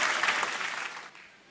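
An audience claps for a karate demonstration by schoolgirls, a dense burst of applause that starts full and gradually thins and fades toward the end.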